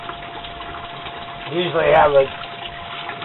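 Water runs steadily into tubs being filled to clean glass bottles, a constant hushed flow heard under a person talking.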